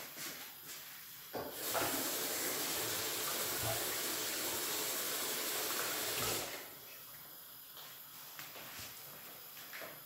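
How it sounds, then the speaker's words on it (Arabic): A kitchen tap runs for hand washing after shaping ground-meat kofta, a steady hissing stream that starts suddenly, flows for about five seconds and stops abruptly, with small clatters before and after. "نغسل يديا ونجي"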